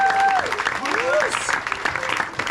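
Audience applause for an improv comedy cast at a live show, a lively crowd clapping steadily with whoops and a few cheering voices over it.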